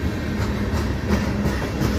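CSX freight train tank cars roll past at night, a loud continuous rumble with rhythmic clickety-clack of wheels over rail joints and no voices.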